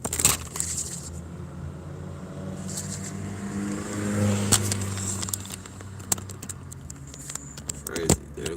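A small car drives past, its engine rising to a broad peak midway and fading again, with faint clatter and scattered sharp knocks around it; no talking.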